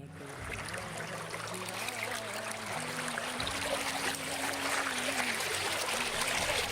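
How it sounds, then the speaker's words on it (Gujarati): The Mori river flows beside the Kamnath Mahadev temple near Mangrol in Junagadh, making a steady, even babble of running water that continues without a break at a moderate, distant level. "એક તરફ ખડખડ વહેતી મોરી નદીનું જળ"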